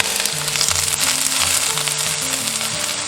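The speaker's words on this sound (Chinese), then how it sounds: "下入虾皮炒香。" Dried baby shrimp stir-frying in a little cooking oil in a wok, giving a steady close sizzle and crackle throughout, with faint low music tones underneath.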